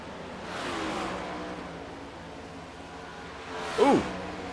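Race car engines in the iRacing video game roar past in two swells, the first broad and sustained, the second a sharper rising rev near the end, with no talking over them.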